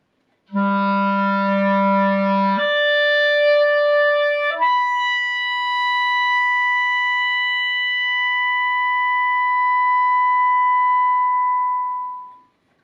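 A single sustained clarinet long tone, steady and close, held for about ten seconds and fading away after the top note with a gentle decrescendo; no talking.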